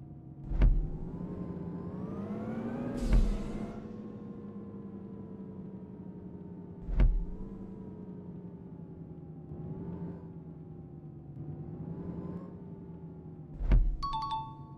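A bus engine in the Indian Bus Simulator video game drones steadily while reversing and accelerating, with a few sharp clicks, and no one talks.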